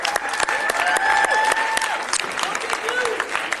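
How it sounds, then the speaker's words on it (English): Audience applause for high school champions at a San Bernardino event, dense, steady clapping from a sizable crowd with whoops and voices mixed in. "let's give them another round of applause"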